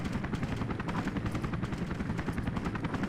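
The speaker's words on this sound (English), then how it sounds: "The enemy helicopter is only vulnerable after the second time it rises" An enemy helicopter in the video game 007: Agent Under Fire gives off a constant, loud rotor thrum with a fast chopping pulse and no speech.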